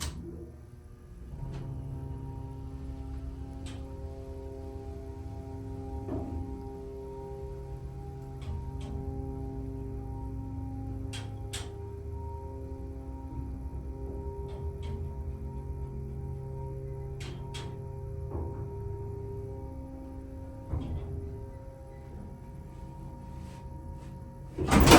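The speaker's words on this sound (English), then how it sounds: "I'll let you listen to the motor one more time" Dover Impulse hydraulic elevator motor running steadily with a humming, droning tone, punctuated by occasional clicks and ticks from the machinery, close and continuous.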